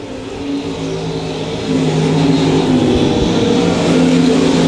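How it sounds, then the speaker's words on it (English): Race cars in an eight-lap heat race at Lakeside Speedway, a dense continuous engine roar that swells louder partway through as the pack passes close, with no talk over it. "8 laps as the 44 car pulling in, the 44F, Chad Walker out of Kansas City."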